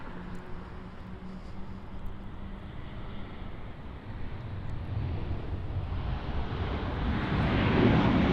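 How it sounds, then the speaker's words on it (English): A Delta Airbus A319-100 arriving from Las Vegas at Los Angeles airport, its engine roar a broad rumble that swells steadily louder toward the end, with wind buffeting the microphone. "Arrived there is a Delta A319-100, operating as flight DL2831 from Las Vegas"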